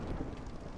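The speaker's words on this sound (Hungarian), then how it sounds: "Kezdődik a vihar, úgyhogy tök jó is," Storm in the video game Against the Storm, with a steady wash of rain and a low thunder rumble filling the short moment and no voices over it.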